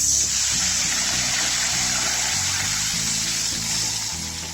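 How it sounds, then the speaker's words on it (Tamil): Water pours steadily into a metal pan of roasted semolina for upma, a continuous splashing gush with bubbling undertones that tapers slightly toward the end. "வச்சுட்டு தேவையான அளவு தண்ணி நம்ம சேர்த்துக்கலாம்."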